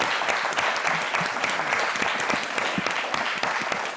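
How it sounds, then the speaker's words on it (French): A television studio audience claps loudly for a guest on an entertainment talk show, a dense run of individual claps sustained throughout, no talk over it. "Djemori, qu'on applaudit bien fort."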